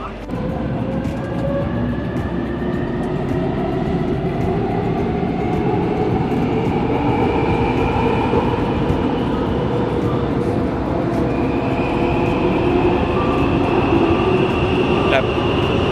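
Taipei MRT metro train running steadily, a loud continuous rumble with rising and falling motor whine throughout, heard from on board with no talk.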